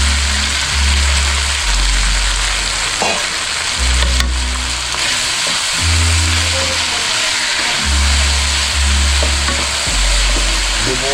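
Pork stir-frying in a pan for a Filipino pork broccoli dish, a steady loud sizzle with occasional stirring scrapes and a low hum running throughout.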